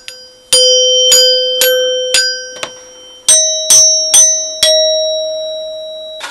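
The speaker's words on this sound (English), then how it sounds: "But this is a really nice chime." A mechanical door chime rings out clear, sustained tones: a run of struck notes at one pitch, then a second run at a higher pitch, each ringing on and fading between strikes, close and loud.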